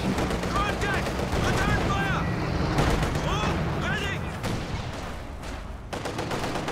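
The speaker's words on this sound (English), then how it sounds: "Su-85 firing at the Panther. T-34 firing at the..." Tank guns in a WWII strategy video game, an Su-85 and T-34 firing on a Panther, with repeated gunfire and booming shots over constant battle noise while a commentator talks throughout.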